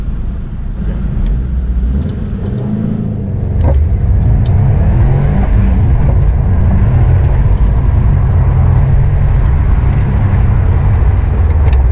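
Subaru WRX STi pushed around an autocross course, a loud close engine roar that swells after a brief lull and holds a heavy rumble, with tyre and wind noise and no talk.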